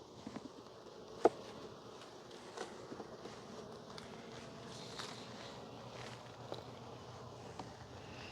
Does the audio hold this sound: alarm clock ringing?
no